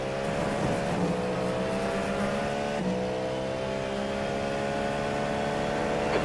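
Cadillac GTP prototype race car in iRacing at Watkins Glen, its engine holding a steady high drone with harmonic whine and slight pitch dips as it lapses through a corner, loud and continuous.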